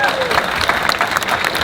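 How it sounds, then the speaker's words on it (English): An audience cheers and applauds for farming contractor, author and TV star Kalab Cooper, a steady dense clatter of clapping with a brief whistle at the start and voices mixed through it. "Let's have another cheer and round of applause for farming contractor, author, TV star"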